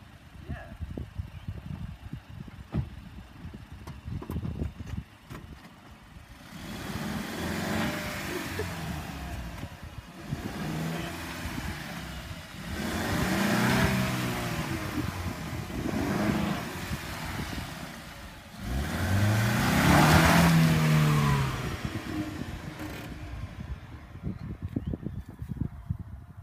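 A car driving back and forth over a pile of Pokemon cards, its engine swelling in several slow revving surges with rumbling passes, and people talking over it.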